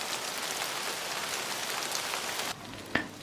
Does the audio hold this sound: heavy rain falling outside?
yes